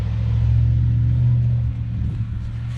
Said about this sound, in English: I have idiotic neighbors that love to rev their cars